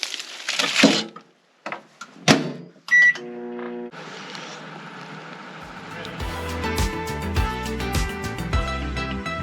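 A few clunks and clatters, then a microwave oven hums steadily with a low drone as other tones layer on top.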